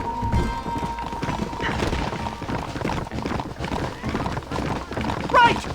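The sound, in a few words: horse galloping in Red Dead Redemption video game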